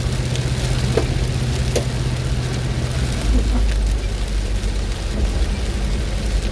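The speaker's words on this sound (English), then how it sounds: "It's beginning to rain hard." Steady, dense hiss of heavy rain on a moving car, with a constant low road rumble underneath and no talking.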